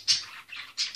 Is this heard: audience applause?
no